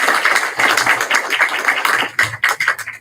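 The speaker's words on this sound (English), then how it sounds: "Please join me in a round of applause for the speaker." A lecture audience applauds the speaker with brisk, close clapping that holds steady and thins out near the end.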